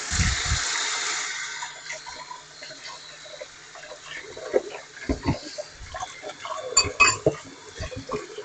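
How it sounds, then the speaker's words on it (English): Hands being washed under a running kitchen tap: a steady hiss of flowing water at the start, then splashes, clinks and wet rubbing sounds at close range, with no talking. "let me wash my hands again"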